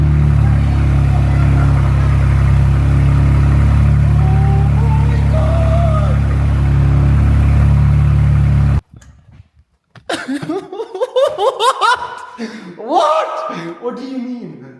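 A rebuilt, fire-damaged BMW M4 engine runs at a steady, loud, low idle, then cuts off abruptly and excited voices take over.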